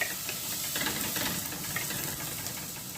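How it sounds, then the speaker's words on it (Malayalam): Onions sizzle in a hot pan for a Malabar-style mackerel fish curry, with a steady frying hiss and faint scraping as they are stirred. "ഇനി ഉള്ളി ഇട്ട് കൊടുക്കാം. അതിന് നല്ലതുപോലെ ഇളക്കി ഉള്ളിയുടെ വെള്ളമൊക്കെ ഒന്ന് വലിയുന്ന വരെ ഒന്ന് ഇളക്കി കൊടുക്കുക."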